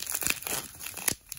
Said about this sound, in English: it's really bubble wrap